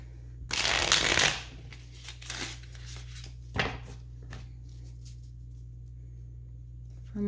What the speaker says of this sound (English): let me shuffle this here